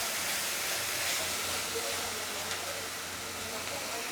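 Turmeric, chili and coriander powders fry with rohu fish in a hot pan, giving a steady, soft sizzling hiss throughout.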